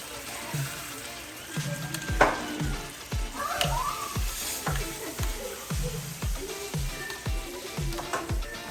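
Potato and yardlong beans frying in a pan, a steady close sizzle broken by a series of regular scraping stirs of the spatula, moderately quiet with no talk.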